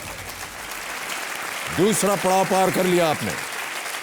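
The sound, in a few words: studio audience applause on KBC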